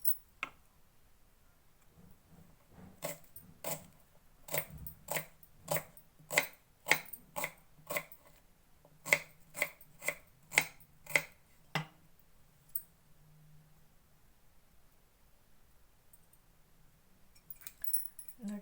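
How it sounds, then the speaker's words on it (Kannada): Half an onion is chopped on a board for a tempering, giving about twenty crisp knife taps in quick, evenly spaced bursts with short pauses, close and clear against a quiet room. "1 ಅರ್ಧ ಈರುಳ್ಳಿ ಹೆಚ್ಕೋತಾ ಇದ್ದೀನಿ ಒಗ್ಗರಣೆಗೆ"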